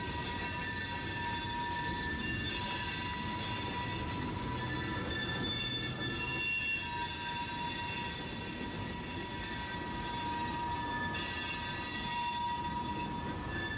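Freight train cars loaded with iron ore pellets roll slowly along a siding into a steel mill, giving a steady rumbling clatter with high, sustained wheel squeals throughout and no voices.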